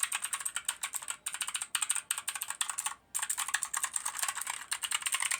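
Fast, continuous typing on a Magic Refiner mk22 60% mechanical keyboard with clicky switches, close and crisp, with a dense rattle of keystrokes and one brief pause.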